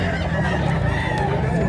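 Chickens at a market, a dense, close cluster of clucking and squawking fowl sounding together in a brief, busy burst, with some voices mixed in.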